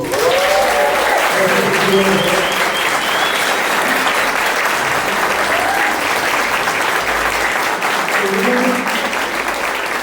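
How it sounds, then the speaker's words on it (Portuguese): A church congregation at an Easter service applauds the choir, dense sustained clapping filling the room at full strength, with a voice talking over it throughout. "Quero também pedir para que você dê uma salva de palmas para esse coral que cantou aqui hoje"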